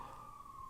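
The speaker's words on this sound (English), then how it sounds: "That's the ambulance, right?" An ambulance siren passes outside, a steady wailing tone holding throughout over low background rumble, heard at a distance with no talk during it.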